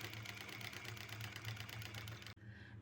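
A sewing machine runs steadily, stitching along the edge of fabric on a ladies' dress, with a fast even mechanical rhythm up close before it suddenly stops.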